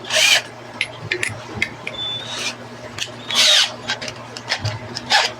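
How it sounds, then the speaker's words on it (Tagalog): Power drill boring a hole through thin aquarium glass during a 180-gallon tank filtration setup, giving repeated bursts of gritty, rasping grinding close by, each a second or so long. "Magamit tayo ng drill."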